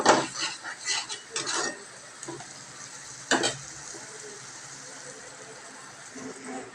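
Spice masala being sautéed in a pan, a quiet sizzle under repeated scraping and stirring strokes, bursts of clatter at first then a few more, with faint talk in places.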